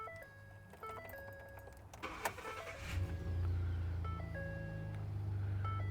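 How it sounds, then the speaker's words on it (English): A 2009-2014 Ford F150 pickup cranks and catches, then settles into a steady low idle, with electronic chimes sounding before and after the start. "I'm going to go ahead and start up the truck here."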